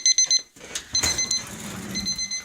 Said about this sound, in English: Wait, what's that? That's a timer!